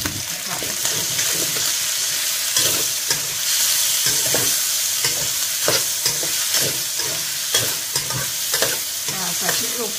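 Chilies stir-frying in a wok with naem fermented sausage, moo yo pork sausage and fresh pork give a constant loud sizzle, broken by repeated scraping strokes of a spatula, with no voices.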